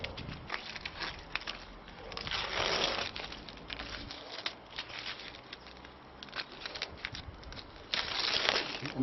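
Adhesive film is peeled from lyre wood and the sticky residue rolled into a ball, giving close, soft crinkling and crackling rustles in uneven bursts throughout.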